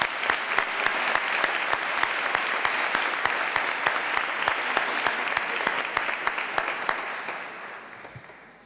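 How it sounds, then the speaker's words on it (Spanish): Sustained applause from an audience at an academic graduation ceremony of a business school, many hands clapping loudly and evenly before tapering off at the end. "Te damos un aplauso que lo mereces."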